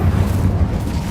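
The Incendio fire spell is cast in the Hogwarts Legacy video game. It sounds as a brief, dense, low roaring burst with a booming, fiery rumble that fills the whole moment with no voice.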